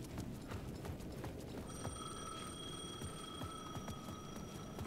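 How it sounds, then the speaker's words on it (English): Payphone at the edge of a plaza ringing in the Alan Wake II video game, a sustained electronic ring tone entering partway through over a quiet ambient bed with soft rhythmic tapping. "The payphone at the edge of the plaza was ringing again."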